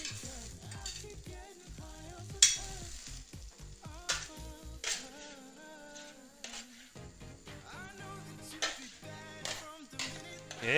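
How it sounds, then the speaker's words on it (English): Steady close sizzling and crackling of shrimps frying in a hot pan with tomatoes, with stirring scrapes and occasional clinks throughout. "Ooh, sizzling. And let's add those shrimps to that."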